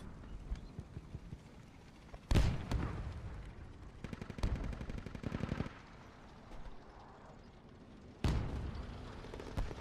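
Heavy gunfire erupts in the military game Squad, with loud bursts and rapid automatic fire rattling amid battlefield noise, some bursts closer and louder than others.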